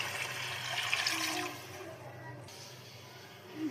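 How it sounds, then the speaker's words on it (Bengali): Water poured into a pot of fried peas while cooking pea rice: a steady, close, rushing hiss for about a second and a half that fades into a quieter murmur, with faint kitchen noise behind. "ব্যাস একবার দুবার নাড়াচাড়া করে এবার জল ঢেলে দেবো।"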